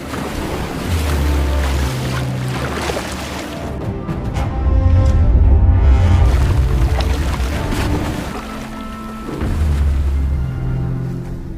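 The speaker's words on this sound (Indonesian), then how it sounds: "Di tengah laut, badai benar-benar datang." Stormy sea in a film scene: roaring wind and crashing waves surge and swell in loud waves of sound, layered under a dramatic musical score.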